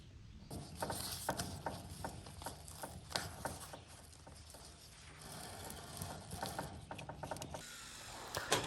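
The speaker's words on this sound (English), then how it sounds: "So I'll screw down this ridge cap at the top of every ridge." Screws being driven down through a metal ridge cap on a small off-grid cabin roof, a steady run of rattling, clicking mechanical bursts with repeated sharp taps at close range and no talking.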